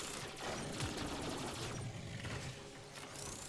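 Rapid bursts of turret gunfire in the Orokin archive room of Warframe, a steady rattling fusillade of fairly weak turrets with mechanical clatter, continuous and moderately loud throughout.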